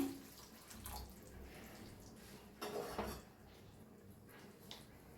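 Hot water poured into an egg curry masala in a pan, a soft running splash with faint clinks of pots, louder briefly midway, close and quiet with no talking.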